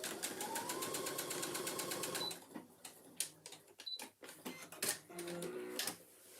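A sewing machine stitches a handbag in a fast, rapid run that stops, followed by a few short bursts of stitching separated by pauses and handling noises.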